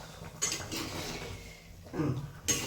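A metal lid is lifted off a cooking pot of mango curry with jaggery, giving a few light clinks and scrapes of metal on metal, close and fairly quiet, with no talking.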